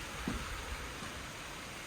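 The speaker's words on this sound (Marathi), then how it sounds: "डेंजर डेंजर पाऊस आलाय डेंजर" Steady hiss of rain falling, a constant wash of noise with no voices.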